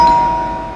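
A doorbell rings, one short bright electronic chime that fades quickly, close and clear.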